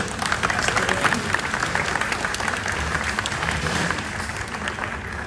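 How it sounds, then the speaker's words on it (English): An audience gives a big round of applause after a glass-breaking demonstration. The clapping is dense, steady and loud, and it carries on without a break for the whole stretch before easing slightly near the end. "And I say we give him a big round of applause."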